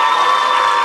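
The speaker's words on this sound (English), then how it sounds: "Can we please have a huge round of applause for Malaika?" An audience bursts into applause at a celebrity talk event for Malaika: a dense, steady wash of clapping and crowd noise filling the whole moment, loud and close.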